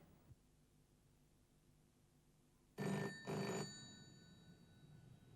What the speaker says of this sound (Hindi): रोज इसी समय डिनर पे ये ब्लैंक कॉल आता है